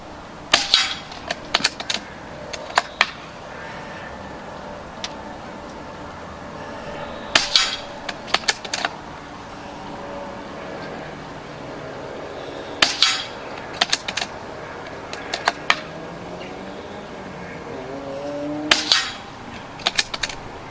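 Daystate Huntsman Regal air rifle firing repeated sharp cracks in clustered bursts, each group followed by metallic clicks and clunks of the pellet being indexed, close and with no talking.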